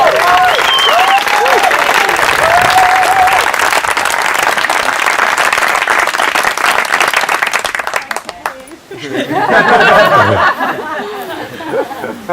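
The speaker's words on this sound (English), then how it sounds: "Can we also just give them a huge round of applause for organising this epic wedding?" Wedding guests applaud loudly with cheers and chatter, clapping dense for about eight seconds before dipping, then voices and laughter rise again as talk resumes.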